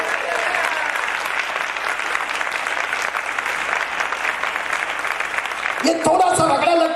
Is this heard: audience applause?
yes